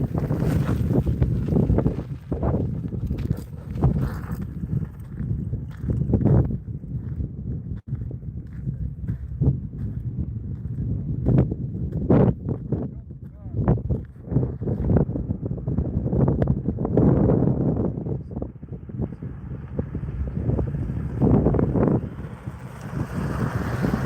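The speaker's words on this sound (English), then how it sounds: "Wind." Strong outdoor wind buffets the microphone as a loud, continuous low rumble with gusty surges that lasts throughout, with no speech.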